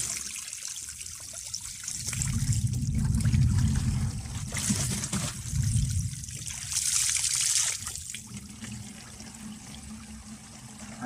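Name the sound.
water trickling while fetching fresh drinking water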